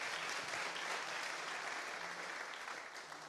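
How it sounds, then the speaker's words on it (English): A conference audience claps for the partner organisations at a forum, a steady and dense round of applause that carries on the whole time and fades a little toward the end. "please give them a big clap"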